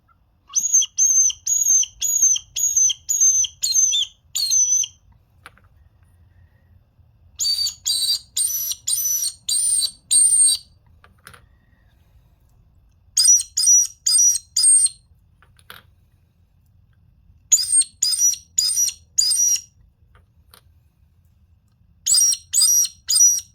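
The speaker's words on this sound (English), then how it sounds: "That's the Squirrel Distress Whistle." Bursts of rapid high-pitched whistled squeaks from a squirrel distress whistle hunting call come in evenly spaced groups of several notes, separated by pauses of near silence, each group sounding alike.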